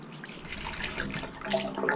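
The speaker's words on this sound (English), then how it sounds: "Pour this water in." Water poured into a chicken tractor waterer, a steady splashing trickle heard close up, swelling slightly toward the end.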